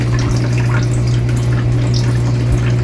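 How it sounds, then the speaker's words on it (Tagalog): Water pours steadily into the top tank of a budget air cooler, making a loud continuous splashing rush over a constant low hum. "kailangan mo lagyan yung pinakatap ng tubig para gumana yung water pump"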